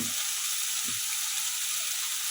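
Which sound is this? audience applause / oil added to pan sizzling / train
oil added to pan sizzling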